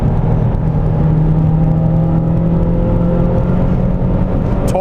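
A modified Mazdaspeed3 pulls hard under full boost, a close steady engine drone and whir with a faint rising tone, fairly quiet for its power, heard from inside the car.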